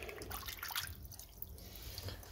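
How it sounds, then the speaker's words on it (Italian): Running tap water rinsing plant roots of common polypody fern, a faint, continuous splashing trickle with small drips, heard alone without talk. "E poi andiamo a metterli sotto acqua."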